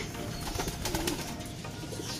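Pigeons cooing softly in a loft while being fed molasses, low murmuring coos over steady background noise, with no talking.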